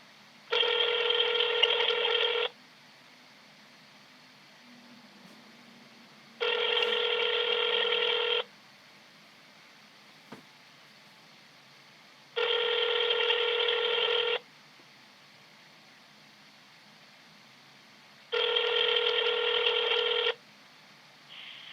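Four evenly spaced, long telephone keypad DTMF tones entering an extension on a bank's phone system, each about two seconds with pauses between, clear and loud over a faint line hiss.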